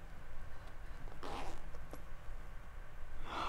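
A short zipper pull on a teddy bear rasps once, then another brief zip follows near the end, close by against a low steady background hum.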